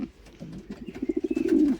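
Domestic Picasso pigeons at a breeder's loft give a low, throaty cooing that rises into a rapid pulsing series of coos, close and alone.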